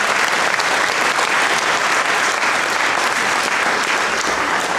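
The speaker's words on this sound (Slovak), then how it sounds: "veľký potlesk" Sustained audience applause at a Slovak school event thanking sponsors and friends, a dense, steady wash of many hands clapping loudly and evenly throughout, with no voices standing out.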